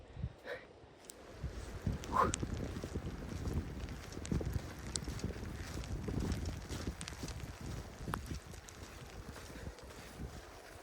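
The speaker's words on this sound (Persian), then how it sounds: "باد بوران هم به سرما اضافه شد" Blizzard wind blows across cold mountains as a steady, low, buffeting roar with rough microphone gusts, fairly faint and continuous throughout.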